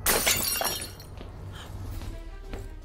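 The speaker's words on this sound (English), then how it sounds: "It's all smashed." A mirror smashes in a cartoon, a loud burst of glass shattering up front that fades into scattered tinkling fragments and a low rumble over the following seconds.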